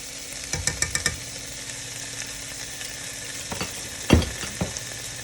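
Scallions and black bean liquid sizzling in a pan as they are stirred, a steady soft frying hiss broken by scraping utensil clatters early and a louder knock near the end.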